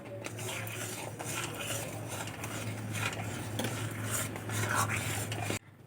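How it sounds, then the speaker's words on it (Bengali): A utensil stirs and presses dough in a kadai pan, giving continuous scraping and clinking metal strokes up close before the sound cuts off abruptly near the end. "এইভাবে নাড়াচাড়া করে একটা ডো তৈরি করে নেব"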